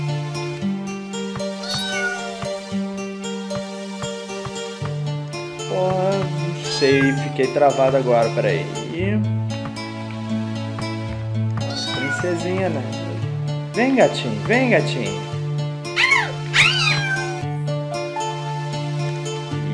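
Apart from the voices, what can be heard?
cat meowing in a video game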